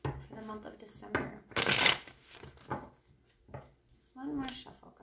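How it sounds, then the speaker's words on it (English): Tarot cards are shuffled by hand in short crisp riffling bursts, close and clear, with someone speaking between and over the shuffles. "One more shuffle, guys."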